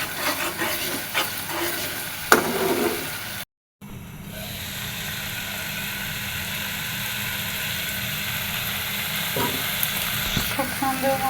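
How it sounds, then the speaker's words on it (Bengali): Spice paste sizzles and fries steadily in a pan, a loud continuous crackling hiss with occasional stirring scrapes, briefly cutting out before resuming. "এদিকে মশলাটা কষায় নিচ্ছি,"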